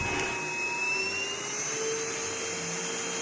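Steady, loud whirring hum of a KHIND VC9691 cordless vacuum cleaner running on its high setting, a constant close motor whine with slight pitch drift and no voices.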